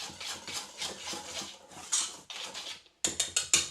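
Flour with baking powder and baking soda is stirred in a bowl for gluten-free cookie dough, giving repeated scraping, tapping strokes. A short pause follows, then four sharp, close clinks and scrapes.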